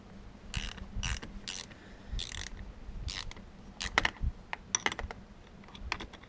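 Ratchet wrench working on the battery cables of a 2001 Ford F-250 7.3 diesel pickup, giving quick close ratcheting bursts, several short runs of clicks separated by pauses, fairly quiet with no talk.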